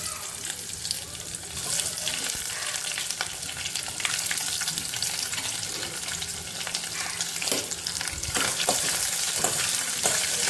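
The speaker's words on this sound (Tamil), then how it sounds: "இப்போ இதோட ஆனியன் ஆட் பண்ணிக்கலாம்." Onions frying in a pan for a spicy chutney, a steady broadband sizzle running the whole time with occasional scrapes and clinks of stirring, fairly close and moderately loud.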